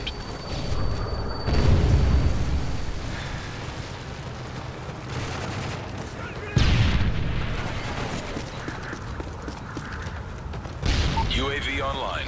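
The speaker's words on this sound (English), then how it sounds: "Friendly predator missile inbound." Heavy explosions from a predator missile strike in Call of Duty Modern Warfare 3 multiplayer. Deep booms land near 1.5, 6.6 and 11 seconds over constant battlefield rumble and clatter, with game voice chatter underneath.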